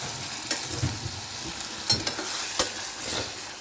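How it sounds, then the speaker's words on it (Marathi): Chopped tomatoes frying in a pan for a rice dish, with a soft continuous sizzle broken by several sharp scraping stirs of a spoon against the pan, fairly close and quiet, with no talking. "टोमॅटो बारीक चॉप करून मी 1 वाटी टाकणार आहे"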